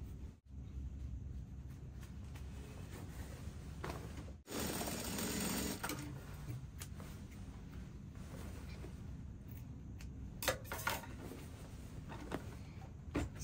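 A sewing machine stitches a bubu neckline facing, its close rapid whirring running steadily for many seconds, with a brief stop and a few clicks of the fabric being handled.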